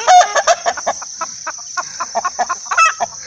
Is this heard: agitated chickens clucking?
yes